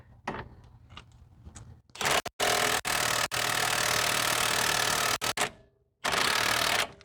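An impact gun on a Ford Flex rear shock bolt fires in loud, sharp bursts of hammering, several short runs separated by pauses, with the bolt spinning rather than loosening; no talk.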